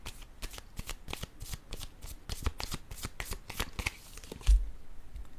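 Tarot cards are shuffled and handled up close in quick, repeated papery riffles and flicks, with a soft tap near the end as one is set down.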